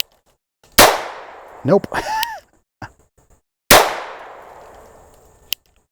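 Two sharp suppressed shots from a GSG Firefly .22 LR pistol ring out about three seconds apart, each with a short fading tail, with a brief word spoken and light handling noises between them.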